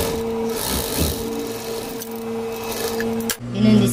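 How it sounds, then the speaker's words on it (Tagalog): Sewing machine stitching a fabric cover for a monoblock plastic chair: a steady, close mechanical hum and whir runs for several seconds, briefly stops, then resumes with a louder burst, with no talking. "Tahiin natin siya mula dito ng paslide dito sa minark natin."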